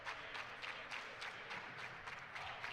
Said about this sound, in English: Mike Iandolo gets a round of applause from his guys